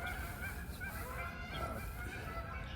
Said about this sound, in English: There's some geese flying down the river.